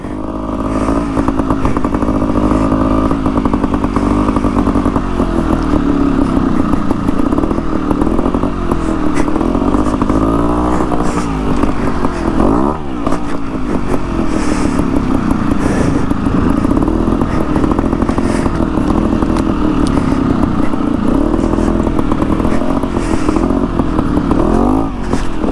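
A Beta dirt bike engine runs continuously at a motocross park, rising and falling through repeated revs with rattling mechanical clatter, loud and close throughout.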